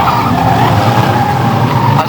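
Race cars on the Bovingdon Raceway track, tyres squealing and skidding as engines drone together in a loud, sustained rush, with a commentator talking over it.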